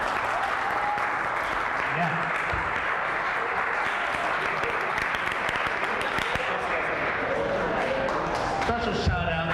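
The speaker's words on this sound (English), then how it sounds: "So give yourselves a round of applause for being here today." Loud, dense audience applause at a 2018 graduation celebration for NCI graduates, sustained throughout with cheering and a brief voice partway through.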